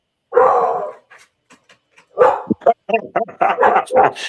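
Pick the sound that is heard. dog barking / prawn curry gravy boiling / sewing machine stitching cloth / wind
dog barking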